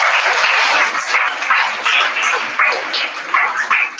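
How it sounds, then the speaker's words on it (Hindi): Schoolchildren clap loudly and steadily for their teachers at a government inter college event, a dense, continuous wave of applause with swelling and fading bursts that lasts throughout. "और उनके लिए बहुत जोरदार तालियां बच्चे बजाएंगे।"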